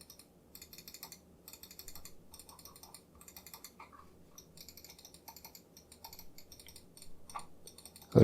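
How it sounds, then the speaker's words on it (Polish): Rapid, even main-button clicks from a Glorious gaming mouse in short bursts, close and crisp, repeating steadily with brief pauses between groups. "Równy i miarowy klik na całej powierzchni."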